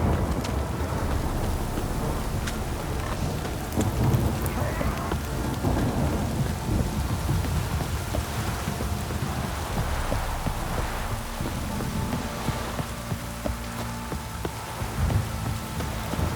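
Steady rainfall with a low rolling rumble of thunder in The Witcher 3 video game, a continuous even downpour filling the whole stretch with no voices.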